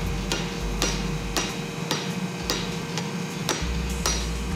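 A hammer strikes a hot steel knife blade, forged from an old hammer, at the anvil in about eight sharp, evenly spaced ringing blows over the low rumble of a running forge.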